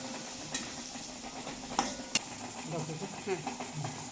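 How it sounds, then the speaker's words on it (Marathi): Green peas are sautéed in a pan, giving a soft sizzle with scattered scraping and clinking stir strokes, under someone speaking. "वटाणी जरा परतून घेते चांगलं असं"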